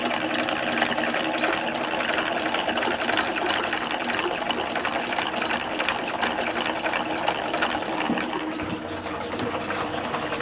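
Ball winder and swift winding a skein of yarn, a steady close whirring, rattling hum that runs without pause throughout.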